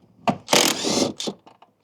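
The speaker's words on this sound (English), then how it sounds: "Some of it you can get to with the rattle gun." Short bursts from a rattle gun working on 14mm seat bolts inside a Subaru WRX, one brief whirr followed by a longer buzzing run and a couple of quick clicks, close and with no talking.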